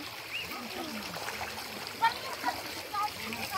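River water splashes and trickles as people cross a river, a steady low rush with a few sharper splashes while people talk over it.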